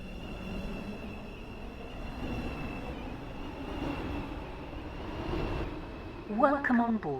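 Train arriving at Bodin station in the Stepford County Railway game, a steady rumble and rolling noise that builds gently, with brief wheel squeals near the end and station announcements talking over it.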